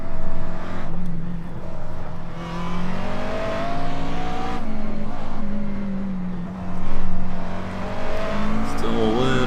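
A McLaren race car engine at Sebring in iRacing, droning steadily with shifting pitch as the throttle is modulated and revs rise and fall, loud and close throughout.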